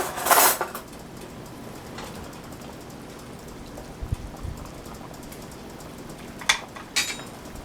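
A spoon clinks against a pot of green beans and potatoes in a few short metallic taps, a bright burst at the start and another pair near the end, with quiet simmering between.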